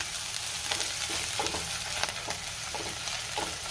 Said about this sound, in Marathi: आलं लसणाची पेस्ट घातल्यावर सुद्धा मी 1 मिनिटभर परतून घेणार आहे